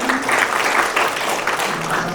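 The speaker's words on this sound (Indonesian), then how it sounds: "Tepuk tangan buat beliau." A crowd applauds, a dense wash of clapping that stays fairly steady, with a voice faintly present underneath.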